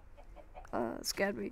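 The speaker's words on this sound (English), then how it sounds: "Devil chicken." Chicken in the Minecraft video game giving a few faint, quick clucks before someone speaks loudly over the game sounds.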